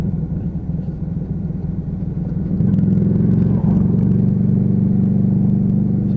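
A Lexmoto Vendetta motorcycle in fourth gear holds a steady 3000 RPM, its engine burbling in a low, continuous rumble that grows slightly louder and fuller partway through, heard from the rider's position.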